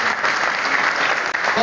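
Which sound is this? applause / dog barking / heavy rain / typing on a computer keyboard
applause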